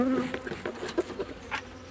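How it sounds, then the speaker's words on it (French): Honeybees at an opened hive after winter, buzzing steadily with a dense, agitated hum and individual bees zipping close past. "Et elles commencent à s'énerver, c'est normal."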